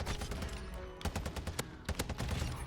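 Rapid bursts of automatic gunfire from the Nightsting weapon in Modern Warfare II, sharp close shots in quick clusters with brief gaps between them.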